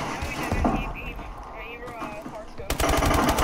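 A sniper rifle fires a quick-scope shot in a video game, heard as a sharp burst of gunfire near the end after a stretch of voice-chat talking.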